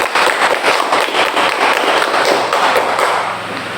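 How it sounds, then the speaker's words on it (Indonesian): A group of students applauding classmates in a classroom, steady dense clapping for about four seconds, near and fairly loud, with no talk over it. "kita berikan tepuk tangan dulu untuk teman-teman"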